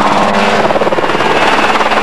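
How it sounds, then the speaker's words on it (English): Angel CH7 single-seater kit helicopter, a tiny, light, fully enclosed vertical-takeoff craft, gives a steady, loud, close rotor and engine roar with a fast beating pulse throughout. "This is a genuine, fully enclosed, vertical takeoff helicopter"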